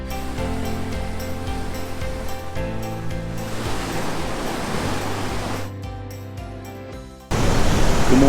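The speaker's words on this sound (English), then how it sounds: "I'm down here at Horseshoe Bay Beach." Surf on the beach at Horseshoe Bay, South West Rocks, around sunrise, a steady broad wash of waves that grows louder near the end, under a sustained musical backing.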